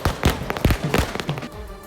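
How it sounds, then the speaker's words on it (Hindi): Firecrackers burst outside a municipal office during a victory celebration, a quick irregular string of sharp, loud pops and thuds over about two seconds, fading out at the end. "वहां पटाखे फूटने लगे"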